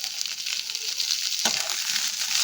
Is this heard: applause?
no